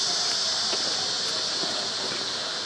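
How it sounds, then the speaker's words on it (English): A small alcohol stove roars and hisses steadily outdoors as wind blows its flame to the side, a constant broadband rush with faint clicks and no pauses. "see my side burner, the wind is blowing the flame that way, but it's doing a great job of cooking"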